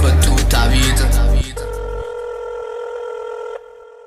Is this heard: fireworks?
no